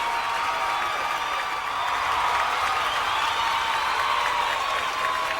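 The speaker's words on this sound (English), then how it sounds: "all applauding the Arya effort" Steady applause and crowd noise at a national racing championship trophy ceremony, as team members, family and media clap continuously at a moderate distance.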